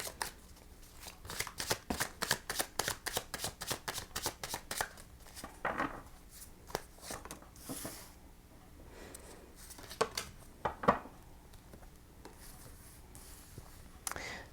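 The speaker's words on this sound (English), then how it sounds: "now I'm going to pull you a card for what challenged you in 2021" Tarot cards are shuffled by hand close up in a quiet room, a rapid run of crisp riffling flutters and slaps that slows into scattered card handling and light taps.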